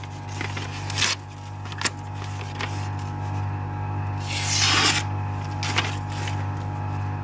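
A Dikar knife is batoned through wood, giving several sharp knocks spread across the stretch and one longer scraping crack in the middle, all over a steady low electrical hum.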